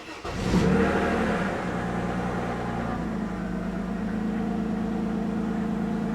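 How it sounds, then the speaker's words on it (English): A Mercedes-Benz engine cranks and fires on its first start after new spark plugs and boots, catching with a quick rev and then settling into a steady, even idle, close and loud, with no talking. "This is the first start with the new spark plugs and boots."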